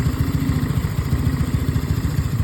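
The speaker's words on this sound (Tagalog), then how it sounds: "Pinapainit lang muna namin yung makina mga boss." A motorcycle engine idles steadily with a fast, even putter and a light mechanical rattle, running alone without any revving.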